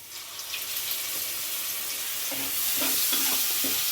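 Spice paste with ground tomato, turmeric and Kashmiri chilli powder sautéing for Bengali paneer masala, a continuous close sizzle with stirring scrapes growing slightly louder toward the end.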